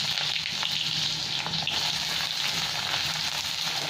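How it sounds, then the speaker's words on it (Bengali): Long-sliced onions frying in oil with nigella and whole cumin seeds, a dense steady sizzle at moderate volume with faint scraping stirs throughout, no voices. "এই পেঁয়াজগুলো দিয়ে দিলাম তেলের মধ্যে।"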